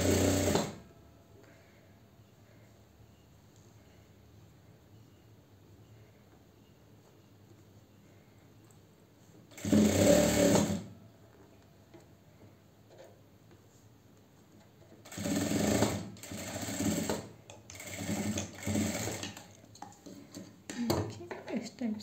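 A sewing machine stitches a velvet dress for a small devotional doll in short bursts of whirring and clatter: one at the start, another mid-way, then a cluster of runs toward the end, separated by quiet stretches.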